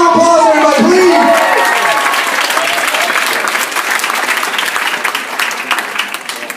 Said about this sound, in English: Give a round of applause, everybody, please.